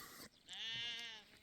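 A fat-tailed sheep gives one long, drawn-out bleat close by, loud and wavering, after a brief rough call at the start, with no voices over it.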